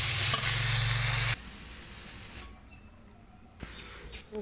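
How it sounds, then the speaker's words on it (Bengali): Loud, close sizzling of pumpkin greens hitting hot oil as they are stirred in a pan, cutting off abruptly into near quiet with a couple of soft clinks. "এখন এই শাকগুলো দিয়ে দেবো, দিয়ে নাড়াচাড়া করে দেবো"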